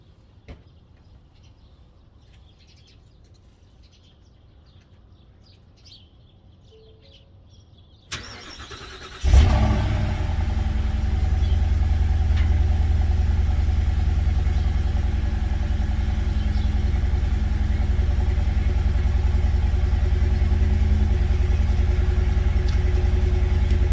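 Cold start of a Ford F-250 Super Duty with the 7.3 Godzilla engine: after quiet with faint birds, the starter cranks briefly, the engine catches with a loud surge, then settles into a steady, deep, close idle.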